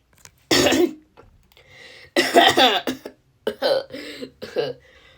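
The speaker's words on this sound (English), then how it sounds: "I was a little coughing." Several harsh coughs and throat-clearing bursts from a sick person, close and loud, separated by short pauses.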